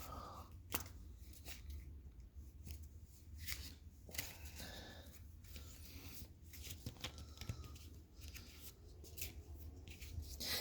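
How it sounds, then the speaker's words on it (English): Disney Lorcana playing cards are shuffled by hand at a tabletop, a steady run of soft riffling and snapping card sounds, close and quiet, continuing for several seconds. "I'll give this another shuffle"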